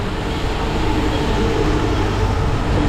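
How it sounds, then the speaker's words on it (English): Traffic rumble along Rua de Francisco Xavier Pereira, a busy Macau street, with buses passing close by in a continuous low engine roar and no voices. "Got a lot of buses coming up here too on the left"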